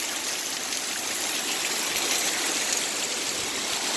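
Heavy rainwater pours off the side of a house roof near the gutters in a steady, dense rush. The hiss holds level and close throughout, and no voices are heard.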